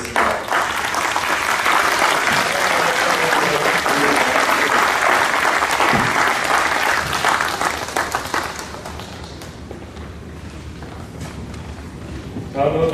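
Audience applause at a company New Year kickoff award ceremony, dense and loud for about eight seconds before thinning to scattered claps, with speech beneath.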